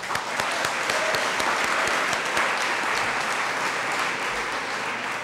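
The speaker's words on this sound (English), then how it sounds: "Let's clap that up" An audience at Long Beach City College applauds steadily throughout, a dense, even wash of many hands clapping with no voices on top.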